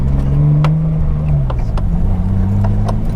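Engine of an R32 Nissan Skyline drift car, a loud, close, steady droning hum with slight rises in pitch as the car moves off gently, with faint clicks over it and no talk.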